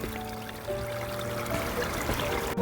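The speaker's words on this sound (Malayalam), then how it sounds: "വെള്ളത്തിൻ്റെ ആ ഒരു കളകളാരവം കേട്ടോ നിങ്ങൾ, നല്ല രസമില്ല കേൾക്കാൻ" Mountain water murmurs steadily along a stream on its way toward the sea in a coastal national park, a close, continuous trickling flow with no voices.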